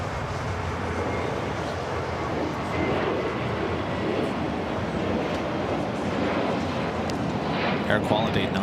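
A plane takes off at LAX, its broad, steady jet roar filling the air at a constant loudness from start to finish, with muffled voices underneath.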